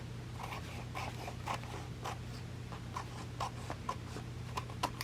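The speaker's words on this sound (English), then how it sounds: "we can go ahead and just trim up these edges" Close, quiet snipping and scraping as the edges of a collaged journal cover are trimmed, small irregular cuts over a steady low hum.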